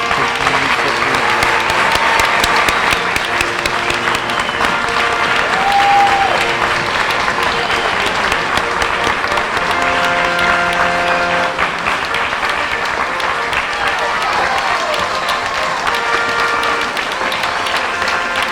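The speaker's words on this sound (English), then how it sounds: "I want a big round of applause for the recipients" A large audience at a scholarship awards ceremony gives a sustained round of applause for the recipients, loud and steady throughout with crowd murmur and a few cheers mixed in.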